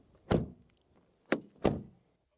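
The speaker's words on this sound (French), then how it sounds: "bruit de porte." A Renault car door thuds shut with a solid, close impact, followed by two more quick door clunks about a third of a second apart, each short and damped, in an otherwise quiet setting.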